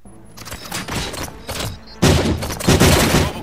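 Rapid bursts of video game gunfire in RoboCop: Rogue City crackle and boom in quick succession, growing louder and denser toward the end, with no one speaking.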